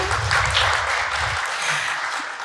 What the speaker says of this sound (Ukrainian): Новаки, аплодисменти новакам.